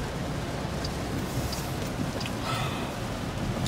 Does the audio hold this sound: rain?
yes